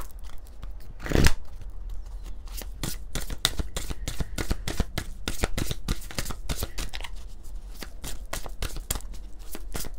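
Lumière de Fée oracle cards are shuffled by hand, a dense, steady riffle of papery flicks and slaps that runs close and continuous with no talk.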